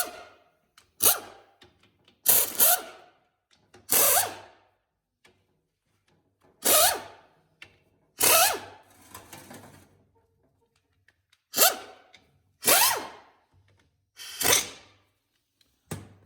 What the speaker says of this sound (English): Now we're gonna take the tail housing bolts out.